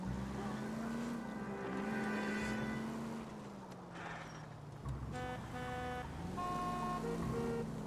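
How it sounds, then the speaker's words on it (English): Car horns honk in the 1940s Los Angeles crime game L.A. Noire, sustained tonal blasts over steady engine drone and traffic noise, one long horn early and several shorter honks later. "Stop honking at me, damn it."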